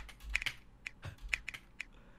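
Sharp computer keyboard and mouse clicks tapping at an uneven pace, a few louder key strikes standing out, close by with no talking.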